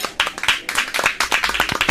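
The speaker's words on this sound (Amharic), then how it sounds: "አጨብጭቡላት" Animated schoolchildren clap for a classmate in a classroom, a quick run of bright, close handclaps that overlap into a brisk patter of brief applause.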